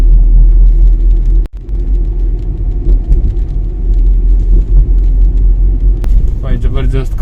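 A car drives slowly over a badly broken road through forest in rainy weather, with a loud, steady low rumble and jolts, a brief dip in the noise, and a voice speaking near the end.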